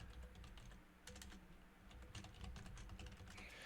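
Rapid clattering keystrokes on a computer keyboard, a run of quick taps in irregular bursts, close and fairly quiet with no voices.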